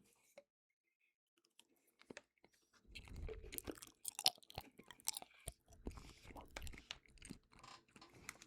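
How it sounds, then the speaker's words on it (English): Close-up ASMR mouth sounds of chewing and crunching. Irregular crisp bites and wet mastication are faint at first, then grow dense and intimate after a few seconds, heard alone without talk. "I know that mouth sounds, chewing sounds, and stuff like that isn't everyone's cup of tea."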